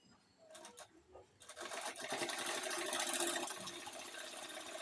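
A sewing machine stitching a baby pant: a few short hesitant bursts of whirring, then a continuous fast, rattling run of stitching at close range, steady to the end.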